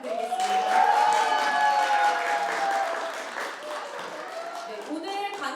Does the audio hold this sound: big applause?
yes